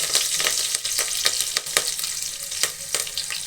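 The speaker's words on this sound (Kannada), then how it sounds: "ಸಾಸಿವೆ ಸಿಡಿತಾ ಇದೆ" Mustard seeds splutter and crackle in hot oil with garlic, dried red chilies and curry leaves, giving irregular sharp pops over a steady sizzle close by.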